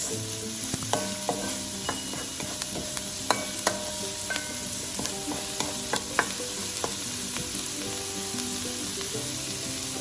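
Black bean and sweet potato filling for pies or empanadas cooking in a pan, a loud continuous sizzle with frequent sharp scrapes and taps of stirring, up close and with no talk.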